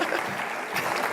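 A short burst of audience applause at an economic and social conference keynote, a close, full crowd of clapping hands sustained at an even level.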